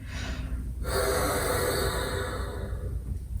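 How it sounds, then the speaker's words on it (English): Breath blown through a bassoon with no reed attached gives a breathy, hissing rush of air with no musical pitch, one long sustained blow after a short softer puff, close and alone. "So if I just blow air through my instrument,"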